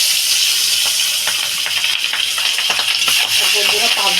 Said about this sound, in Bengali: আমার তেলটা গরম হয়ে গেছে আমি এবার একটা একটা করে মাছ দিয়ে দেবো